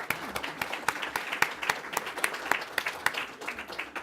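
An audience breaks into brief applause, a burst of scattered claps building and tapering over a few seconds in a conference hall.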